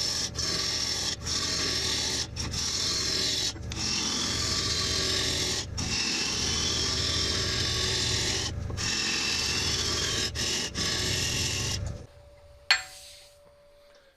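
Deep hollowing cuts on a wood lathe into spalted wood: a steady, loud broadband tearing rasp that runs continuously with brief breaks, then cuts out near the end and leaves a faint tone and a small knock.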